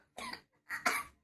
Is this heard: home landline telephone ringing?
no